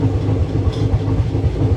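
Train rolling along a track with a steady low rumble and faint rhythmic clatter of the wagons, heard from inside a half-empty passenger coach near Ahmedabad Junction, continuous and fairly loud.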